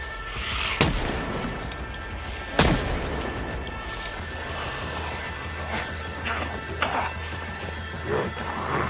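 Two loud, sharp gunshots from the zombie survival game Project Zomboid crack out about two seconds apart, followed by fainter scattered knocks and rustles against a low background rumble.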